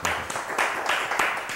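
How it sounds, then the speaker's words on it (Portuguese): A studio audience on a Brazilian television variety show breaks into applause, several bursts of clapping swelling and fading close by over about a second and a half. "mas isso também merece um aplauso, não merece?"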